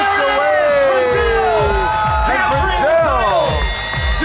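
Crowd roaring and cheering at a beach volleyball match point in a women's pro event, loud and sustained, with excited commentary running over it.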